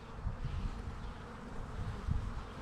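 Honeybees buzz during a hive inspection, a close, continuous low drone with slight swells and no talk over it.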